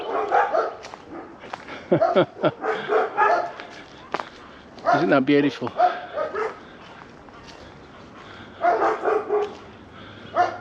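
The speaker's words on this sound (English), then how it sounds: "I've startled the dogs." Startled dogs bark repeatedly in short bursts near a shaded, tree-lined hiking trail at the edge of suburbia, their yaps coming in clusters while a hiker talks.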